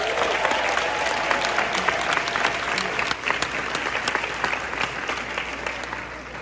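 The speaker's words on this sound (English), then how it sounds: "would you please join me in giving a rousing applause for all of the enterprise partners, professionals, and businesses that made this happen" Rousing applause from a large audience at a commencement ceremony, loud continuous clapping that holds steady for several seconds before easing slightly toward the end.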